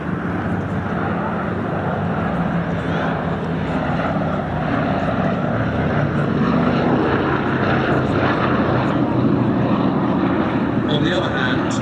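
Boeing B-17 four-engine bomber passing overhead at an airshow, a steady droning propeller roar that swells slightly, heard under continuous talk.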